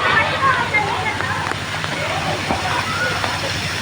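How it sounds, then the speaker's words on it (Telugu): Rain falls in a steady, dense outdoor hiss, loud and close, holding an even wash of sound from start to finish. "నీళ్ళు ఇట్లా వస్తుంటే, వాన పక్క పడుతుంటే సూపరే సూపర్"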